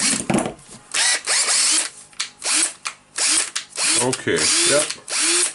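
A repaired Makita DHR458 18V cordless rotary hammer drill runs in repeated loud bursts of whirring and hammering, each starting and stopping, close by, with a brief spoken remark between runs.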